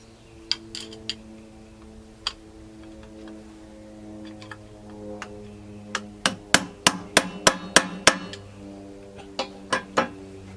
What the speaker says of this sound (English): So can I tap it back a tad with the screwdriver?